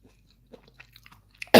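Crunchy mushroom in a vegetable soup being chewed up close, soft scattered bites and mouth clicks building to one loud, sharp crunch at the end.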